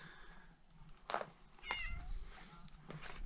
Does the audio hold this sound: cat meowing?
yes